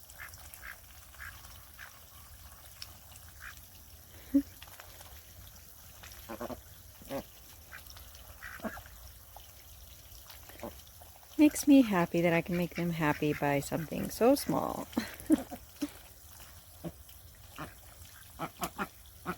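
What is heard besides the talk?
pet ducks playing in running water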